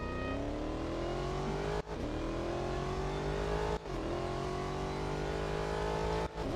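A race car engine in Real Racing 3 revs hard and climbs through the gears, with rising whines cut by three sharp shift breaks, loud and continuous with no talking.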